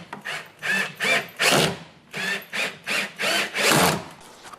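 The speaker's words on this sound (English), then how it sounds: "So I'm going to take the strike plate, put it in here, and just drill straight on into" A power drill drives screws through a metal door strike plate into a pre-drilled hole in a wooden door frame, running in several short bursts that rise and fall with brief pauses between, loud and close.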